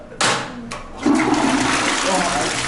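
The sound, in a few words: toilet flushing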